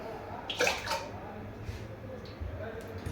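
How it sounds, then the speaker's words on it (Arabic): Water and eggs go into a bowl for cake batter, making a brief liquid splash and pour near the start and then faint sloshing. The sound is soft and close. "في صحن بيتنا نحطو الماء والبيض."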